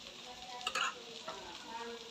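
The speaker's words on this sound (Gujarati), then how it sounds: "બધું આપણે સારી રીતે મિક્સ કરી લેશું।" Sabudana khichdi with red chilli powder and chutney is stirred in a pan, a steady soft sizzle with scraping and a couple of brief clinks, close and fairly quiet.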